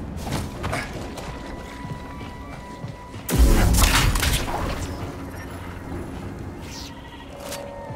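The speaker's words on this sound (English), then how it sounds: "Okay, so they explode." A heavy explosion booms in Star Wars Jedi Survivor at a gorge crash site, a sudden loud blast with a rumbling debris tail after quieter ambient game sounds.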